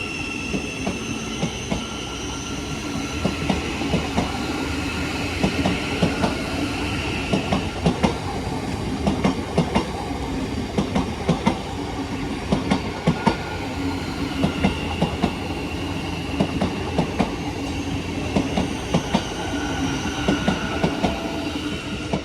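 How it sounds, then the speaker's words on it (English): A Thameslink Class 700 electric train on the Marston Vale Line runs past close by, bound for Brighton, with steady rumbling rail noise and a repeating clickety-clack of wheels over joints throughout, and no voices. "there goes the 1348 Thameslink service to Brighton via central London"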